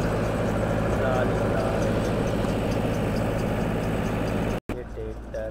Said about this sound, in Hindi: ये ट्रैक्टर है